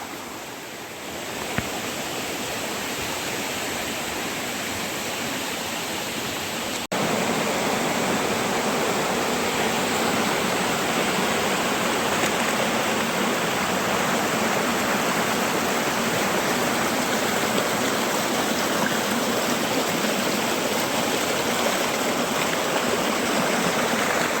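Steady, loud rush of a waterfall, a continuous broadband roar that swells slightly partway through and holds without pause; Machha Kandana waterfall, Similipal, Mayurbhanj.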